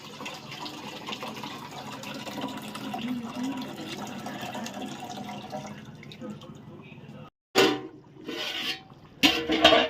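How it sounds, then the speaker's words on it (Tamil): Hot water pours steadily into a pot of mutton biryani for several seconds, then a few louder splashes and sloshes follow after a brief pause. "தண்ணி ஊற்றி அப்படியே சிம்மில் வச்சிடலாம்."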